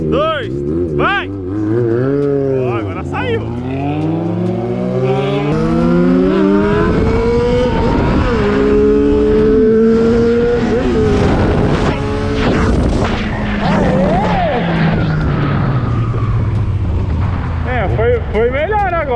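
A motorcycle engine revs and accelerates loudly nearby, its pitch climbing and falling over a sustained roar, with people shouting over it.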